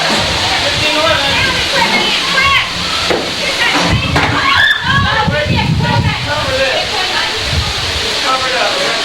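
Heavy storm rain pours down in a loud, steady hiss at a youth camp, with splashes and knocks around the recorder while people talk through the downpour.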